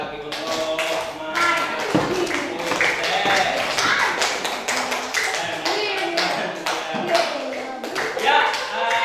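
A class claps hands during a lesson, sharp, rhythmic claps in quick bursts with some tapping and shuffling, loud and close, mixed with a voice talking.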